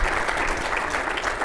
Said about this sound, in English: give a big round of applause for Mr. Jon Ralston